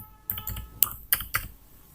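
A handful of sharp, separate keystrokes on a computer keyboard, close and clear, spaced irregularly across two seconds as a short search term is typed into a Windows Server machine.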